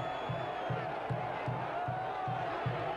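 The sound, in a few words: football crowd shouting after a goal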